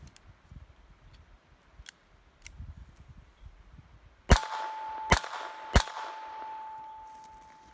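Gunshots from a gun fired by a child outdoors, three sharp cracks in quick succession after faint background noise, the first loudest, with a lingering ringing tone afterward.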